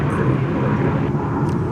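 A Boeing 787 Dreamliner airliner, arrived from Tokyo Haneda, is at DFW Airport. Its jet engines give a loud, steady roar that fills the whole stretch with broad rumble and no voices.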